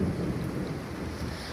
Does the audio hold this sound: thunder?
yes